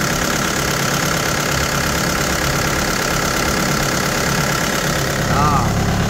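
Kubota M6040 tractor with an untouched original engine idling steadily and close by for the whole stretch, a continuous low mechanical rumble with faint knocking texture, briefly overlapped by a voice near the end.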